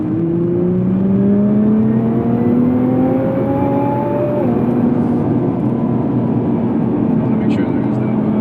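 A 2017 Nissan GT-R accelerating hard, its engine note rising in steady pitch sweeps through the gears with a shift partway through, loud and close from inside the car over constant road and wind roar.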